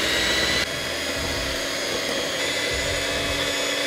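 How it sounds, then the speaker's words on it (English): An electric mixer blending sugar and olive oil for a vegan chocolate cake, a constant loud motor whir that drops slightly in pitch after the first moment. "So you can blend your sugar and oil with a whisk, but I'm gonna be using a mixer today."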